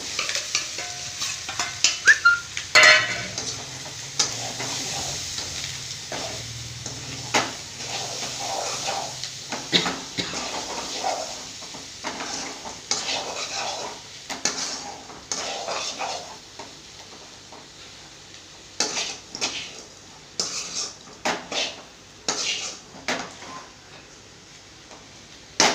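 Potato pieces with chili powder are stirred in a frying pan, a continuous close sizzle broken by frequent scraping strokes of a spoon, with a dog barking faintly at times.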